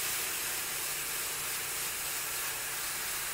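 Airbrush spraying paint from its cup onto an Air Force 1 sneaker, a steady continuous hiss of air and paint mist that stays even and unbroken throughout.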